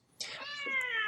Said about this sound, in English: That was the cat singing his tune entitled "It's Time to Feed Me."